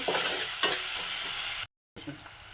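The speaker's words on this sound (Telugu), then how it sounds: "ఆయిల్ హీట్ అయిందండి మనం ముందుగా కట్ చేసి పెట్టుకున్న ఉల్లిపాయ ముక్కలు దీంట్లో వేసుకున్నాము తర్వాత కొంచెం కరివేపాకు వేసుకున్నామండి" Chopped onions and curry leaves sizzle and crackle in hot oil while being stirred, a loud continuous frying hiss with a brief cut-out before the sizzle resumes.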